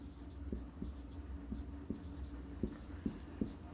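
A pen scratches faintly on paper while maths is worked out by hand, short strokes tapping and scraping in a quick, irregular rhythm close by.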